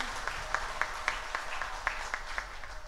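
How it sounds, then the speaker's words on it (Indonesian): A talk show audience at a 2022 health education event in Banyuwangi applauds its two guests, with distinct claps landing in a steady, even rhythm over a softer bed of scattered clapping and room noise. "Boleh berikan tepuk tangan untuk kedua narasumber kita."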